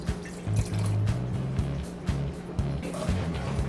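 A cup of water is poured into a pot for making peanut brittle, making a short splashing, trickling fill that runs under a steady low hum, close and moderately quiet.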